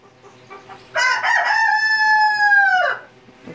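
Backyard chickens: a few soft clucks, then a rooster crows loudly and close by in one long, sustained cock-a-doodle-doo before it trails off into quiet.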